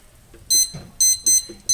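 A kitchen timer beeps while being set for cooking stuffed Cornish hens: four short, loud, high electronic beep bursts in quick succession over faint background noise.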